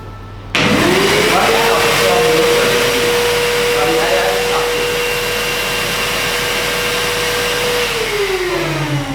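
A nozzle blasts high-speed air into a straw at a science show, a loud sustained hissing roar with a steady whistling tone that holds for several seconds before sliding downward as the airflow continues.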